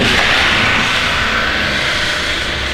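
A 2020 GMC truck with a 6.2L engine and a Blackwidow Widowmaker custom exhaust, giving a steady, loud, close low rumble that holds without a break.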